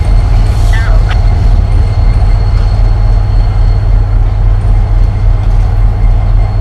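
A Norfolk Southern SD70ACE locomotive passes trackside at DeButts with its train, a loud, steady roar and rumble of engine and rolling cars filling the whole stretch, with a brief squeal early on.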